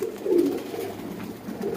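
A breeder pigeon coos softly nearby in a couple of low, rolling phrases, with no voices.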